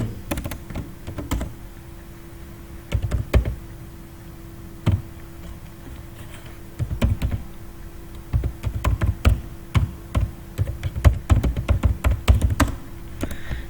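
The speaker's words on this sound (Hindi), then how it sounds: "अब इसमें टाइप करना है" Someone types on a computer keyboard in short clustered bursts of sharp clicks, separated by brief pauses, close and clear with no talking.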